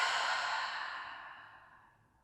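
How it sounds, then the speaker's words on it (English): A single long, breathy exhale released through the mouth during a guided relaxation exercise, close and soft, fading steadily over about two seconds with no talking. "Inhale deeply through the nose and exhale through the mouth."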